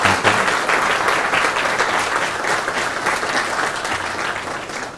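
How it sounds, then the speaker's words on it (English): Conference audience bursting into sustained, dense applause that holds at full strength for about five seconds before tapering slightly at the end. "Can we all give him a round of applause for leading the charge?"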